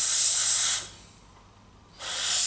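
An airbrush sprays RLM 74 paint onto a model Me 109 in two loud, close bursts of steady hiss, with a brief quiet pause between them.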